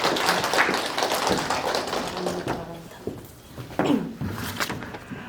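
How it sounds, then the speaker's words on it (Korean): Audience applause welcoming a student speaker onto the stage at a university exchange-student mentoring session, dense clapping and tapping filling the room for several seconds with some background voices mixed in. "박수로 맞이해주세요."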